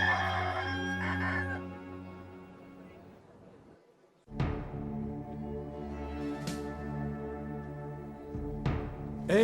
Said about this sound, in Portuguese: antes que o galo cante